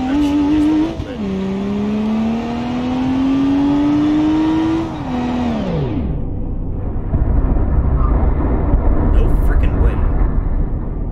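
A car engine revs and accelerates in BeamNG.Drive, rising loud and steady for about five seconds, then cuts out abruptly, followed by rumbling crash-like noise and scattered clatter while a voice talks over it.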